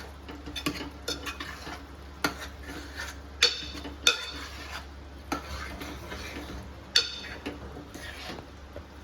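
Vegetable pieces for Andhra-style sambar stirred in a pot, a spoon scraping and clinking against the metal in irregular close strokes over a faint low hum, with no one speaking.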